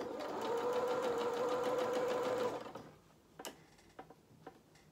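A sewing machine stitches a seam down the side of a small Luna Lapin jacket, running in a fast, even, close whir for under three seconds, then stopping, followed by a few scattered light clicks and taps.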